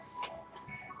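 A mobile phone rings with a brief electronic melody that sounds faint and muffled, heard during a live cooking session making roti canai.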